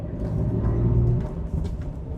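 A 1965 Chevrolet Corvair Monza with the 140 engine, an original low-mileage barn find, is driving. A steady, low engine rumble is heard from inside the car, with no talking.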